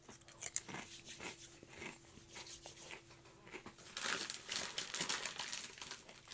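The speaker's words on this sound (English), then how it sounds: "Hopefully my crunching isn't too loud." Close crunching and crinkling from someone eating a crispy snack, with irregular bites and chews that grow busier and louder toward the end, heard alone without talk.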